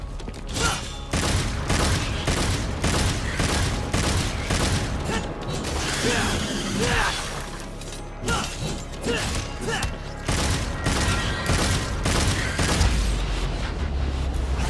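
Rapid repeated gunshots crack in dense bursts over a loud, busy Devil May Cry 5 game soundscape of mechanical clanks and booms, with no pauses.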